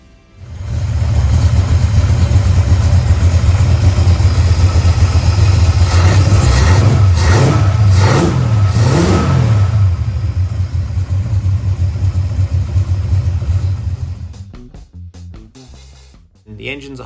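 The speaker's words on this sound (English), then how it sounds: "engine's a Holden 308." A Holden 308 V8 with a 355 stroker crank fitted in a Torana hatchback idles loudly with a deep, steady rumble, blips its throttle several times in quick succession, then settles back to idle before shutting off.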